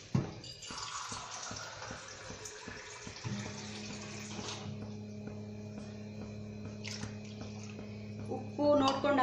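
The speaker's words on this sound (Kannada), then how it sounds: "ಇನ್ನೂ ಸ್ವಲ್ಪ ನೀರು ಆ್ಯಡ್ ಮಾಡ್ತೀನಿ ಅದಕ್ಕೆ" Water runs from a tap into a metal cooking pot already on the boil, a steady pouring stream with a few clinks and splashes, fairly close and moderately loud.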